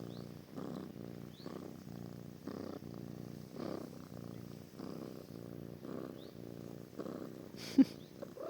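A cat purrs close up in a soft, steady rhythm of rumbling breaths, quiet and continuous throughout, with a small knock near the end.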